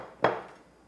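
A single sharp clink of a near-white, off-white ceramic dish with some depth being set down or handled, one brief close knock that quickly fades.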